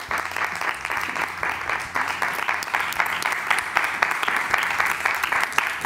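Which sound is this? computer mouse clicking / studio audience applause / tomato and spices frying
studio audience applause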